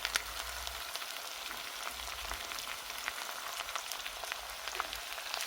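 Two sliced onions sautéing in reduced oil over medium heat, a soft continuous crackling sizzle, faint and close.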